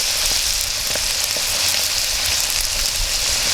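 Ham sizzles and fries in a pan for a packer-style camp meal, a steady dense crackle with scattered pops and no speech.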